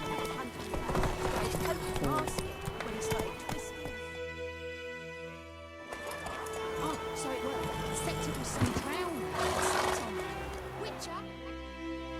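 Geralt's horse Roach in The Witcher 3 video game, clip-clopping hooves at a steady walk with a loud whinny near the end, heard close amid game music and ambient sound.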